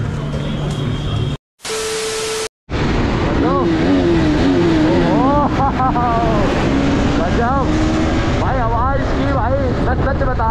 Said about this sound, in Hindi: बिना फिल्टर के आवाज़ बहुत प्यारी है भाई, RS 200 की तारीफ करनी पड़ेगी इस चीज़ में तो भाई